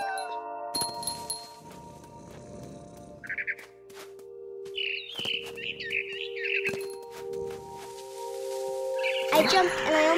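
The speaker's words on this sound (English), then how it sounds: "Then I heard chirping outside my window. It was a barn swallow going back to her nest." Barn swallow chirps in a video game, a few bright chirping bursts mid-clip over a steady humming game soundtrack, with croaky low murmurs between.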